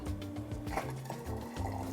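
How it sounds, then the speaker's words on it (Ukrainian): Boiling water pours into a glass bottle to sterilise it, a steady close-up gurgling fill that runs for about two seconds. "Далі ми, як завжди, стерилізуємо пляшку. заливаємо окроп."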